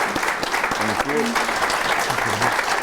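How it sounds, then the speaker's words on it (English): An event audience claps in a steady, dense wash, with a few voices talking over it. "Could we all just give them a round of applause?"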